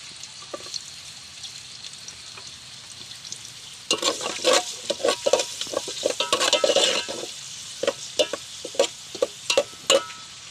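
Garlic frying in hot oil in a wok, quiet at first, then a loud crackling sizzle at about 4 s, with rhythmic scraping and clacking as it is stirred with a metal spatula, close and without talk.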